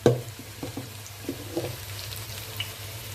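Egg noodles go into a pan of onions and stir-fry for a vegetarian Tuaran noodle dish, giving a soft, close sizzle with light scraping and tossing sounds; no talking.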